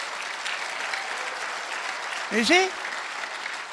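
A congregation at a Tagalog church service applauds steadily for the whole stretch, a dense, even wash of clapping, with a brief spoken phrase cutting in near the end.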